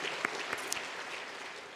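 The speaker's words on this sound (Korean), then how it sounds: "하나님께 영광의 박수 드리겠습니다" Church congregation applauding during a Sunday afternoon worship service, a soft, fairly distant wash of many hands with a few sharper individual claps standing out near the start.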